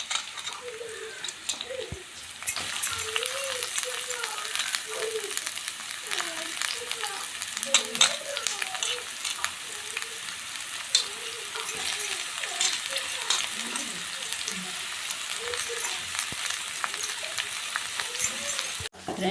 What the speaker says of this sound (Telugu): ముందుగా ప్యానంలో ఆయిల్ వేసుకోవాలి, ఆనియన్స్ యాడ్ చేసుకోవాలి